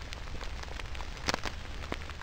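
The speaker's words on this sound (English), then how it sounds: "And it's raining." Faint rain pattering on leaves and ground in the woods during a mushroom hunt in Indiana, with scattered soft drops and small taps over a quiet hiss and no talking.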